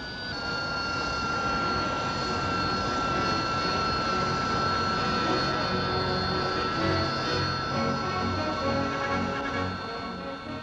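A Kestrel vertical take-off jet aircraft with an all-British engine roars steadily and loudly for several seconds, a continuous high whine over a broad rushing blast, close and sustained.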